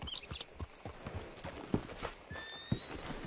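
Horse hooves clip-clop at a steady walking pace in Red Dead Redemption 2, fairly close and crisp, with a brief whinny partway through and no talk.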